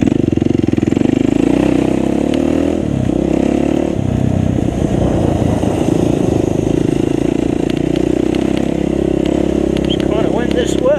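A KTM 400 EXC enduro motorcycle is ridden in a senior enduro race in Fang, Thailand, its engine droning loud and continuous close by, with shifting revs and a rider's voice over it.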